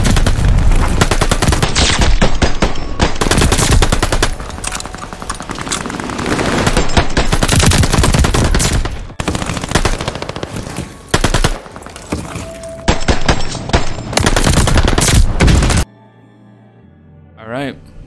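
An MP40 submachine gun firing in a first-person shooter game, rapid loud automatic bursts one after another with short gaps, ending in quieter game sounds.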